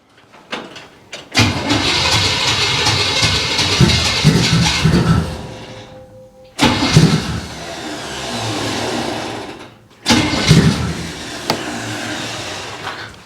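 A 1957 Chevy engine cranking and firing up for the first time in years, three loud close bursts of rough rumbling running that die out between attempts, with no talking.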